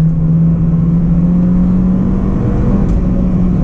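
An Acura RSX engine pulls hard as VTEC engages during backroad driving, a loud steady in-cabin engine drone with a strong low tone.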